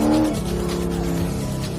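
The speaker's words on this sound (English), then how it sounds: "This is drifting into this turn." Supercar drifting into a turn at about 90 mph, a close engine roar with rising tonal whine and tire noise, sustained and loud with no talk.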